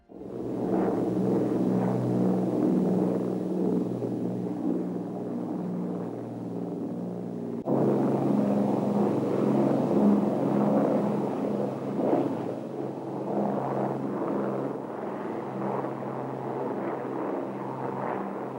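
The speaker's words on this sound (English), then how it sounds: "But once you had them synchronized, they just purr. Music to the ears. The sound of 4 Merlins" An Avro York aircraft runs its four Rolls-Royce Merlin engines in a steady, loud, close droning roar, with a brief dip partway through before the rumble resumes evenly.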